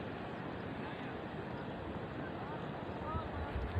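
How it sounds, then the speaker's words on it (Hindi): Fast-flowing Indus river water rushes in a steady, dense roar that cuts into the surrounding land. Constant wind buffeting on the microphone and the noise swells slightly near the end. "ये आवाज़ें जो आप सुन रहे हैं पानी की है, बहुत ही तेज़ चल रहा है पानी इस वक्त"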